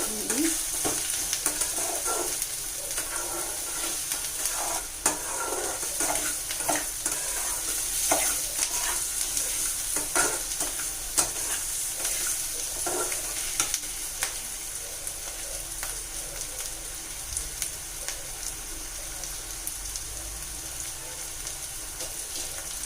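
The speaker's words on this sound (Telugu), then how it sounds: "ఉప్పు వేస్తే ఉల్లిపాయలు బాగా మగ్గుతాయి అన్నమాట." Onions fry with salt in a pan for egg fry, a continuous close sizzle with frequent scraping and clinking from stirring, steady and fairly loud throughout.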